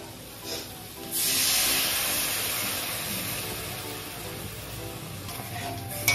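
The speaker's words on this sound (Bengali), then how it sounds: "এখন দিয়ে দেবো এই তেঁতুলের জলটাকে" Tamarind water hits a hot pan of taro flower sour curry, bursting into a sudden loud, close hiss about a second in that slowly fades to a softer steady sizzle, with no talking.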